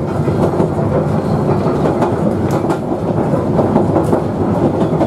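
A train rumbles loudly and steadily close by as it climbs a steep gradient in Queensland, wheels clattering rhythmically on the rails with a heavy, laboring drone.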